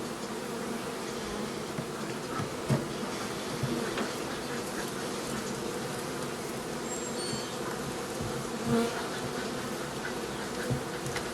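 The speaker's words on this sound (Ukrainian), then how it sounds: "уже починають бджоли на мене і тихенько нападати" A dense, steady buzz of many honeybees swarms close around a beekeeper at a hive, with individual bees droning louder as they pass near, no talking.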